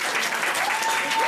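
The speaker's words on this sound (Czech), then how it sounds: "Obrovský aplaus!" Loud, steady applause from a concert audience, dense and sustained throughout with no breaks.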